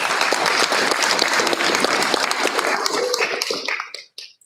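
A crowd at a school board meeting applauds steadily with dense overlapping claps, then the clapping thins out and fades to a few scattered claps at the end.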